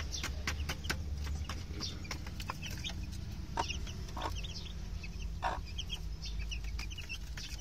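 Gamefowl chickens cluck and chatter nearby in scattered bursts over a low steady background hum, with no talking.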